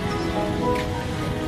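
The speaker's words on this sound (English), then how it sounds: "It's raining." Rain pours down steadily outdoors at Praça Roosevelt, a skate spot in Brazil, making a dense, close hiss of drops hitting pavement that runs unbroken with no speech.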